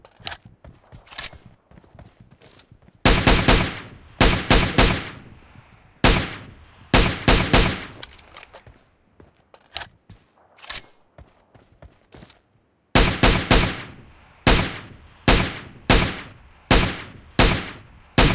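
Gunfire in the mobile battle royale game BGMI crackles in rapid bursts, loud sharp volleys separated by short pauses and quieter stretches, with each burst of automatic fire repeating close by.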